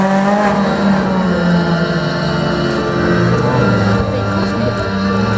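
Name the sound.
race car on slalom track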